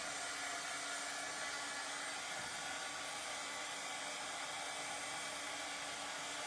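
A hair dryer blows steadily to dry a transfer on a plant pot, producing an unbroken, even whooshing hum at close range with no talking.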